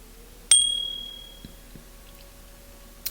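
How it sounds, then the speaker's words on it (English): A notification bell sound effect rings once with a bright metallic ding that slowly fades, then a second short chime near the end, over a quiet background. "If you hit the notification bell"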